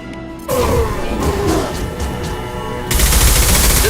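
Loud bursts of rapid gunfire from the shooter game Mass Effect 2, with dense volleys and sharp impacts running almost continuously and growing harsher toward the end.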